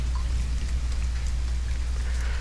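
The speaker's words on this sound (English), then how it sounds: "It's still raining, even though that sound is always in the background," Continuous rain in the video game The Forest patters steadily with a low background hum, an even hiss of drops throughout.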